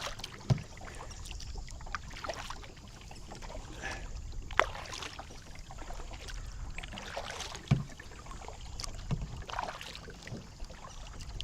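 Paddle strokes from an Ascend H10 kayak on calm water, soft rhythmic splashes and drips every couple of seconds, close and quiet against light wind, with no talking.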